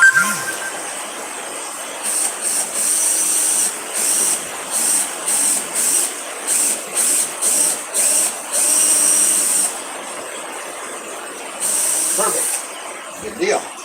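A power drill whirs in a series of short, repeated bursts with brief pauses between them, close and fairly loud, as it drives in a screw.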